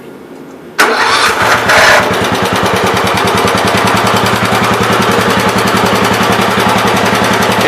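A 1974 Gravely 408 walk-behind tractor engine catches and starts, then settles into a loud, steady, rapid putter, close by and running alone.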